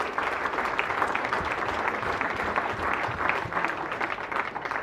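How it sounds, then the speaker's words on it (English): Audience clapping at a secondary school boys' football tournament ceremony, a dense sustained round of applause from a crowd, steady and moderately loud throughout without talk. "Round of applause, please."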